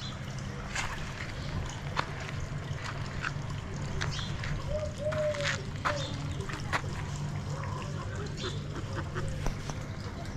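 Ducks and geese at a farmyard poultry pen quack and honk in scattered calls over steady outdoor background noise, moderately near, with a few louder honks in the middle.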